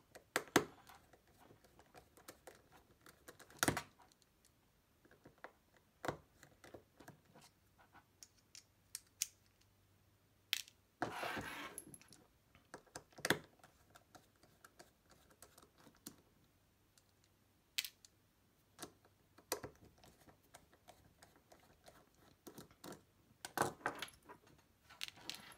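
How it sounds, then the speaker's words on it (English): Tiny screws come out of a Garmin Fenix 5X watch during a battery replacement, heard as faint, scattered clicks and small tool taps against the case, close and quiet, with no talk. "I'm going to get these 5 screws out"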